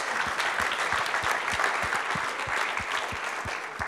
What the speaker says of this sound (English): let's just have another round of applause for our startups and our judges